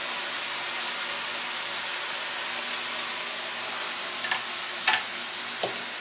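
Tomatoes dropped into a hot pan with onions sizzle in a steady, even hiss, with a few small clicks and taps near the end and no talking.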